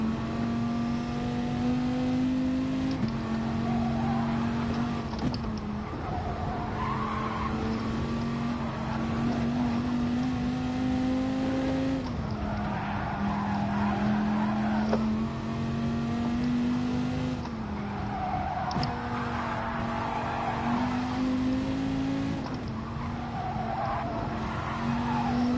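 In a racing video game, a race car's tyres skid and squeal through understeer over a steady engine drone, with repeated long screeching slides rising and falling as the car corners.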